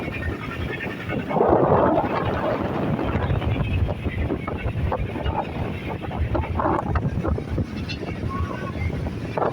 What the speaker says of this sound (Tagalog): Medyo mahangin po dito sa loob